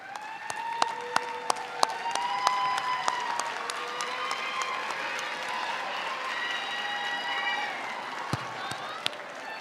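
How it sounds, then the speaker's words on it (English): Graduates at a community college commencement ceremony stand and applaud their family and friends, a broad, even wash of clapping from a large crowd in a hall, with a voice heard over it. "give a round of applause to your family and friends who are here with you today"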